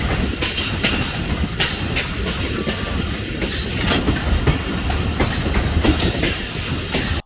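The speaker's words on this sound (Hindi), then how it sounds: "ये देखें ट्रेन को मुड़ता हुआ" A passenger train on the Karachi to Multan line runs and curves along the tracks, a loud, steady rumble heard from inside with repeated clickety-clack wheel beats and faint squeal through the turn.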